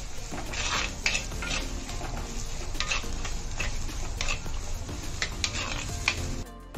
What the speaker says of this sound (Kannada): ಈರುಳ್ಳಿ ಹಾಕೊಳ್ಳಿ, ಬೆಳ್ಳುಳ್ಳಿ, ಈರುಳ್ಳಿಯನ್ನು ಚೆನ್ನಾಗಿ ಫ್ರೈ ಮಾಡ್ಕೋಬೇಕು.